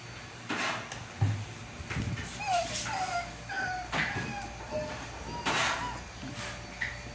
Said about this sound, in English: There's a small dog.